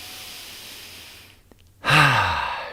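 Deep breath drawn in and then let out through the mouth, a long soft inhale followed by a loud, close, breathy sigh of an exhale, alone without speech.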